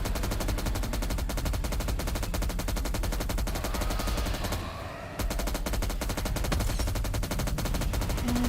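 M60 machine gun fire in a video game, loud and sustained rapid automatic bursts that rattle on almost without pause, dipping briefly midway before resuming at full intensity.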